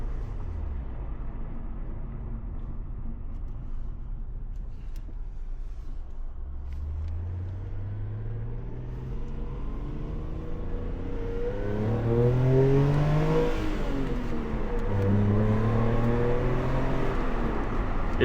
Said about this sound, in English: We'll see if we can get through some gears here going up the hill